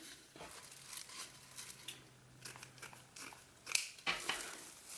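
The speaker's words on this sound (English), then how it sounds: "when we come to the end of our roll, just going to cut the mesh" Scissors snip through deco mesh ribbon with crisp crinkling, a run of soft close-up cuts and rustles, ending with a few sharper snips.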